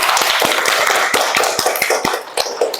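A short burst of hand clapping from a small group, irregular claps pattering and thinning out near the end, no voices.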